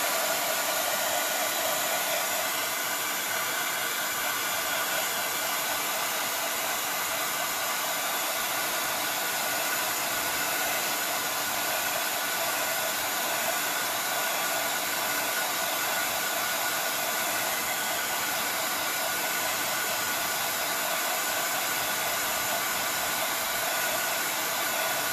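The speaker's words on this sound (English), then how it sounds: "the heat gun that I'm using" A heat gun blows steadily for the whole stretch as it dries paint on a small rock fairy house, giving a close, constant whooshing hiss with no talk.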